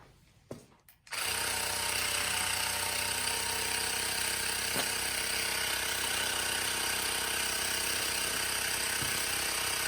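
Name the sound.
Nexpeak small tire inflator compressor pumping a bike tire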